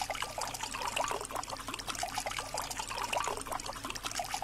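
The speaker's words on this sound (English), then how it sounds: "Push and hold the hot water button." Hot water pours steadily into a cup from a coffee machine's hot water button in the VR barista game Coffee Quest, a continuous trickling stream heard alone, close and moderately loud throughout.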